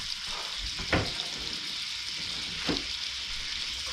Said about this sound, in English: So we're adding 2 tablespoons of butter to this.